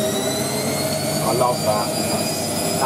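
A Hotpoint 1842 Super Electronic washing machine spinning on a 60°C colourfast programme gives a loud, steady high-pitched whine with a constant drone, heard close, with muffled voices briefly under it.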